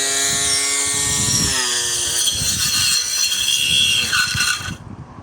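A petrol grass trimmer fitted with a red cap runs at high speed with a loud, droning whine that wavers in pitch as it cuts young, thin grass, then cuts out abruptly near the end.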